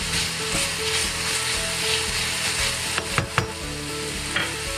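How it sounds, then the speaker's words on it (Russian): Beef for beef stroganoff sizzles steadily in a hot pan, close and loud, with a few sharp clinks of stirring utensils against the pan. "вот так обжаривается мое мясо."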